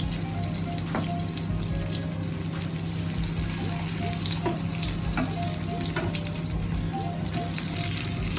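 Brinjal shallow frying in oil with cumin gives a steady, dense sizzle that runs the whole time, with a few soft clicks of stirring on top and no voices.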